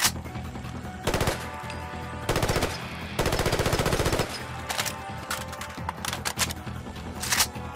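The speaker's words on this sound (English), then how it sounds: "FAMAS, for example, also known as the clarinet." Bursts of rapid automatic fire from a modded FAMAS rifle in the video game Fallout 4, coming in several distinct rattling volleys with short gaps between them. Loud, close, sharp shots stand alone with no talking.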